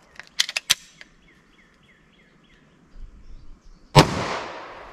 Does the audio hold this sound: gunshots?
yes